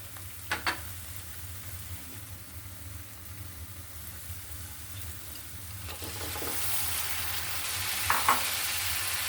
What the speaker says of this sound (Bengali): এখানে আমি দিয়ে দিব চিংড়ি মাছ